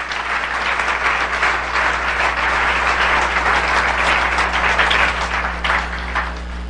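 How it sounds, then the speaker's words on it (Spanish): A church congregation applauds for the Lord during a sermon, sustained and fairly loud clapping that swells and holds steady, with a low constant hum running underneath. "Denle un aplauso al Señor si lo quieren dar."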